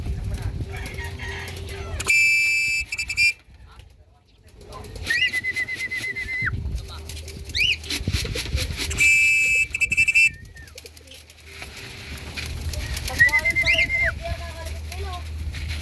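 Racing pigeons at a club training release give soft cooing and bird calls among outdoor background noise, while people talk in Filipino and whistle-like tones sound intermittently.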